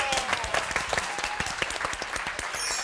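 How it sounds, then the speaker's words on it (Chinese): Studio audience applause on a Taiwanese variety show, a dense, steady burst of many hands clapping with scattered sharper claps, loud and continuous throughout with no talk over it. "来掌声鼓励一下"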